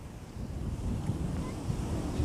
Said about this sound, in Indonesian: saya sekarang sudah berada di dekat laut tepi pantai dengan ombak yang lumayan